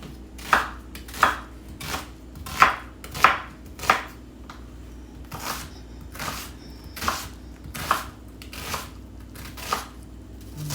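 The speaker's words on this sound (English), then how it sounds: "And cut your other onion." A knife chops an onion on a cutting board in a home kitchen, about a dozen crisp, evenly spaced thunks with a steady low hum underneath and no talking.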